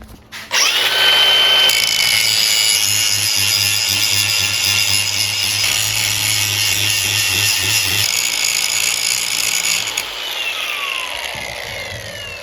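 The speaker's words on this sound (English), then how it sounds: "So I'm gonna have to grind off more, it looks like." A power grinder cuts away a metal tab on a disc brake caliper fitted to a Toyota Land Cruiser FJ40, a loud close whine held steadily for about nine seconds, then easing off as the tool spins down.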